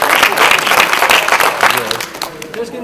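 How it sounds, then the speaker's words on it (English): A live audience applauds at a team ranking event, a dense wash of clapping that holds steady for a few seconds before thinning out toward the end. "Let's give them a round of applause again."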